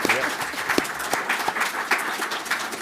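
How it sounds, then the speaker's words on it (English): An audience applauds town council candidates at a local candidate forum, a steady wash of many hands clapping with a few brief voices poking through over nearly three seconds. "Can we give all of our candidates a round of applause?"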